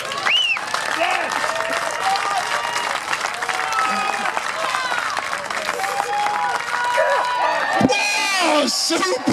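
Crowd applause and cheering at a Highland Games heavy throw, loud and sustained throughout, with whoops and shouting voices mixed in and spectators talking over the clapping.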